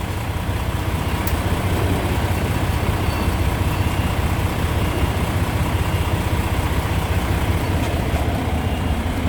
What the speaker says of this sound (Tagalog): Tahimik yung andar ng makina.